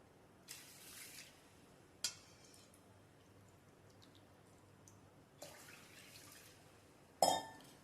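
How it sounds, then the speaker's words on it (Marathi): Three bowls of water are poured over washed rice in a kitchen, several short splashing pours separated by quiet gaps, the last burst loudest, with faint clinks of a vessel. "आता त्यामध्ये मी 3 वाट्या पाणी घालणार आहे"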